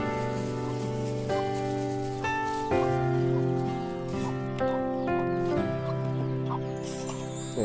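Backyard chickens cluck and call in short repeated bursts, close by and fairly loud, with several birds vocalizing over each other in a quiet rural setting.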